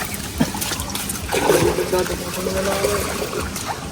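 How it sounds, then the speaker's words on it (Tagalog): Water drains out of a fish pond in a steady splashing trickle, with faint voices in the background. "Unti-unti na pong nalabas ang tubig dun sa fish pond."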